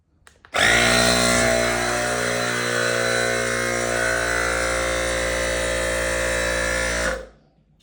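An air compressor runs steadily for about six and a half seconds after a sharp start, a loud, constant motorized hum with a dense mechanical whine and no talking over it.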